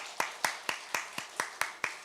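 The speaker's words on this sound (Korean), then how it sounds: "우리 박수로 격려하겠습니다" A church congregation at a Sunday worship service claps in unison, about eight evenly spaced, rhythmic claps at a moderate distance in a reverberant hall.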